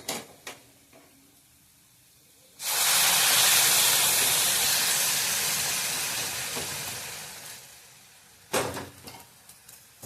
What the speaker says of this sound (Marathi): आता यात आपण गरम पाणी घालूया।